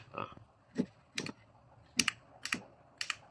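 The plastic part of WINSTIME T40 LED glasses gives a series of about six sharp, light clicks, spaced irregularly, close and fairly quiet against a near-silent background.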